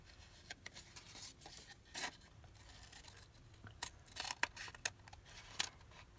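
Scissors snip through paper for a journal embellishment, with faint, close crisp clicks and rustles scattered irregularly in a quiet room.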